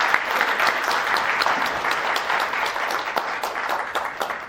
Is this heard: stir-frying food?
no